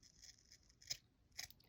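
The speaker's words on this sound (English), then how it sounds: "I'm going to line up my scissors along that ridge line, and I'm going to cut" Scissors snipping through knitted stitches along a steek line, two crisp, quiet cuts about half a second apart in an otherwise hushed room.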